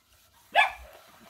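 One dog barks once, short and sharp, from a household with several dogs, fairly close and alone against a quiet room.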